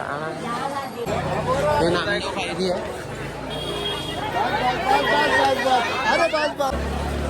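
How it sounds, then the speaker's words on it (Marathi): Dense crowd chatter near a temple by the Chandrabhaga river, a steady close hubbub of many overlapping voices with someone speaking over it. "पा गर्दी किती वाढली."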